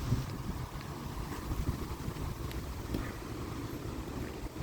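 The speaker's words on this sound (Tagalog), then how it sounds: "Mahangin pa." Wind gusting outdoors under a dark, cloudy sky, a steady low rumbling buffet across the microphone with no voices.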